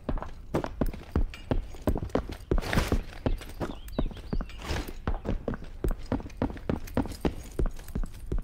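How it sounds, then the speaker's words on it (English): Rapid footsteps run up a staircase in a video game, each step layered with a mechanical gear-like clank, giving a dense, steady patter of close, sharp impacts with no other sound. "So there's two layers of actually the footsteps."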